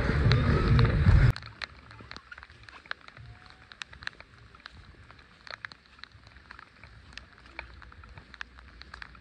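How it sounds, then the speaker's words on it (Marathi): Rain falling at Karnala fort, a hilltop fort with stone bastions, heard as a steady soft patter with scattered sharp drop ticks after a brief louder burst at the start. "मित्रांनो, पाऊस परत चालू झाला आहे."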